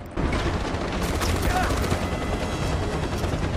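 Gunfire in the video game Far Cry 4: dense, sustained automatic fire that stays loud and steady throughout, with no pauses.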